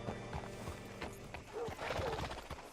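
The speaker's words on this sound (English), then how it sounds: "Hitch your horse up here." Horse hooves clip-clop at a walking pace in Red Dead Redemption 2, with mechanical clanks and some muffled voices in the background.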